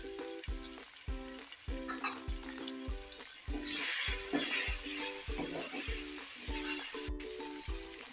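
Chopped bell peppers and green chillies sizzle in a hot pan for chicken macaroni, with a spoon scraping and stirring in a steady rhythm over continuous frying hiss.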